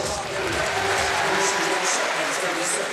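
Arena crowd at a Commonwealth Games weightlifting final in Glasgow cheering and applauding for a Scottish lifter, a sustained roar of clapping and shouts under an announcer's voice.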